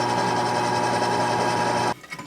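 A steady high-pitched mechanical whir of a drill boring holes in metal runs continuously, then stops abruptly, leaving faint clicks and handling noise.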